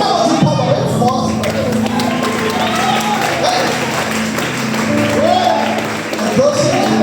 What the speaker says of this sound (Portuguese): Dá uma salva de palmas bem forte